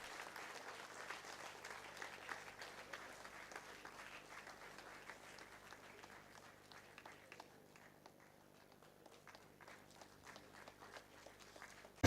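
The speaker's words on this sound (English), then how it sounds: "A big round of applause." An audience applauds at an institute's diamond jubilee felicitation ceremony, a continuous patter of many hands clapping, heard from some distance and fairly quiet, slowly thinning toward the end.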